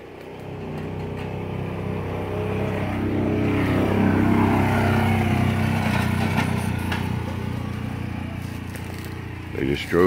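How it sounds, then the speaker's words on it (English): A vehicle drives through a wetland at a pipeline construction work zone, a steady engine drone with muddy churning that swells and holds for several seconds, close and loud, with a brief louder burst near the end. "They just drove through the wetland."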